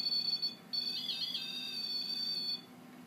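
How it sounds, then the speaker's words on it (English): A faint high electronic beep from a Rem Pod ghost-hunting device at startup sounds, breaks briefly, then a second longer beep follows, both thin and steady over a quiet background. "the 2 beeps, it means that it configures the entire Rem Pod"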